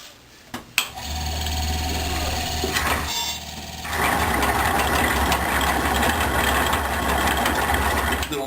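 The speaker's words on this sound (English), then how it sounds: "you feed the grain into the grinder" A motorized grain grinder milling malted grain for homebrewed beer: a steady mechanical whir and rattle that starts abruptly, then grows louder and fuller partway through as grain feeds in, continuous and close.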